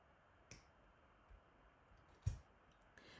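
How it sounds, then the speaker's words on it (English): Wire cutters snip a wire tail while a pin collar necklace is being made, giving a few sharp, quiet clicks spread over a few seconds, with one louder snip in the middle. "So I'm going to trim off a teeny tiny bit."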